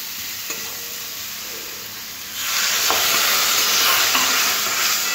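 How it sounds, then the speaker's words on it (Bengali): Water is poured into a pan of spiced yam and prawn masala, and the frying flares from a soft sizzle into a loud, steady hiss of boiling steam, with no talking. "এরপরে দিয়ে দেবো জল।"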